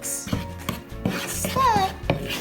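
Chicken wing seasonings, including pepper, are mixed in a bowl: a few sharp clinks and scrapes of a utensil against the bowl, close and moderately loud, over a steady musical background.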